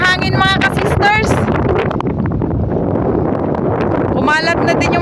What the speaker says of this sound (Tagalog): Lakas na ng hangin mga ka-sisters.